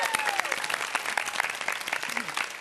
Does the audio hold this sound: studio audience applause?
yes